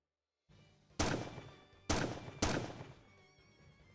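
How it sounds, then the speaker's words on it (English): Three sharp gunshots ring out in the video game Stella of The End, each a loud booming crack with a short decaying tail, following a low rumble. "I fire a few shots down and turn to leave."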